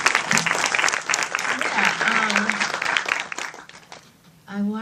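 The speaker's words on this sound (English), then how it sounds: "applause." Audience applause after a Q&A at an African film festival in New York, dense clapping from a crowd that fades out near the end as a voice begins speaking.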